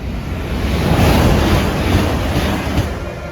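British Rail Class 387 unit 387168 passes through a London station on the Great Western Main Line, a loud, steady rushing roar with rumbling wheels that swells slightly and holds for the whole stretch, with no voices.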